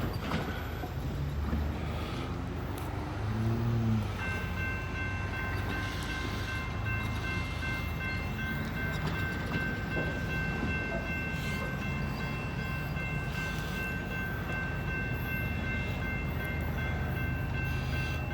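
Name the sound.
Norfolk Southern freight train passing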